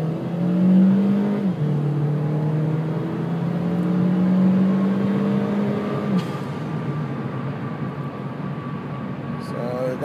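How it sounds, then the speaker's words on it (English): A 2013 Chevy Sonic RS engine revs up through several rising gear pulls accelerating from 0 to 60, loud and close, the pitch climbing then dropping at each shift before settling. "all you're going to hear is the car from 0 to 60."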